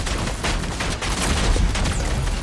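Rapid gunfire in the Fortnite video game, a dense, continuous volley of close, loud shots rattling for a couple of seconds with no talking.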